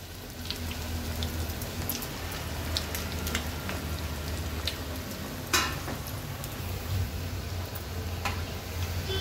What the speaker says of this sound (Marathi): आता उरलेले चीज बॉल्स देखील एका बाजूला मी तेलावर सोडते